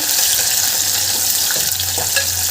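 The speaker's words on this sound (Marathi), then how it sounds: "आणि इथे कांदा घालायचा आपल्याला बारीक चिरलेला. आणि याला छान परतून घ्यायचं आहे." Finely chopped onion sautéing with whole spices in a pan for palak pulao, a loud continuous sizzle with a couple of brief stirring scrapes, close up.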